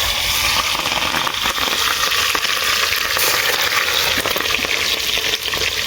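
Chili frying loudly in hot oil in a home kitchen, a steady dense sizzle with stirring, close and continuous without talk.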